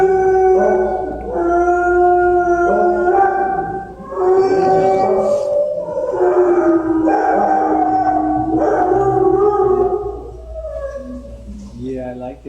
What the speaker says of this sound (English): Yeah, I like that little dog.